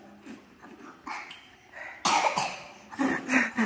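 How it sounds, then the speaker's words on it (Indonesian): A child coughs several times right after blowing out candles on a birthday cake, a close run of harsh coughs that builds louder toward the end, with no talk over it. "Sampai batuk."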